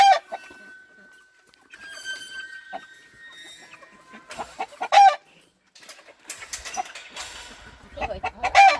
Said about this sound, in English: we herded the chickens out of the way